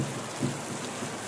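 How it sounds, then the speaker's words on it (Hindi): Heavy, steady rain falling, a dense continuous hiss with a faint low rumble, moderately quiet and unbroken, with no voices. "लगातार बहुत तेज बारिश हो रही थी"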